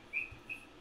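A person whistles to imitate a bird, giving two short, faint, high chirp-like notes separated by a brief pause against quiet background.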